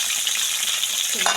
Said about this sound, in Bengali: মাছটা ভাজার পালা